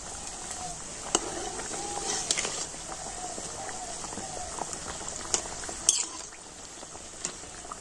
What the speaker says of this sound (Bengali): আমি হালকা জাল দিয়ে উল্টে পাল্টে কচুরিগুলো খুব সুন্দর লাল করে ভেজে নেব